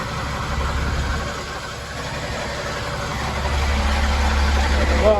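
A Massey Ferguson 1250 tractor, just primed after a fuel line was cleared, idles with a low, steady diesel rumble that grows slightly louder toward the end, while people talk over it.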